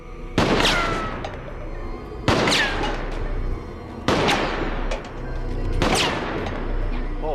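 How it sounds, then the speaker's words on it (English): Gunshots fired one at a time at can targets, four sharp, loud cracks spaced about two seconds apart, each with a short ringing tail over a dramatic film soundtrack. "One by one, they take their shots."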